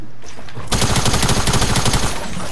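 Rapid gunfire in a video game, a loud burst of repeated shots in quick rhythmic succession after a brief quieter lead-in, close and dominant.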